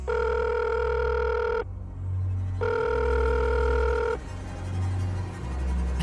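A telephone rings as a sound effect in an animated horror story, two long electronic ring bursts separated by a pause, loud and close over a low hum, with no speech.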